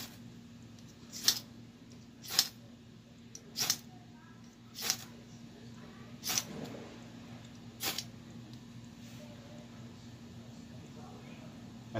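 A striker scrapes a ferro rod top to bottom: six sharp, bright scraping strikes spaced a second or so apart, each a brief raspy hiss over a low steady hum.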